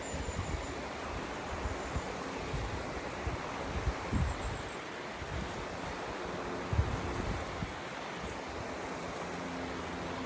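Muddy brown river water swollen by rain rushes past rocks in a steady, dense wash of noise for ten seconds, with light wind buffeting and no voices.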